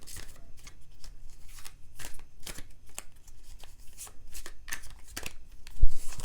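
Tarot cards are shuffled close up in quick, crisp riffling bursts, with a sharp tap near the end.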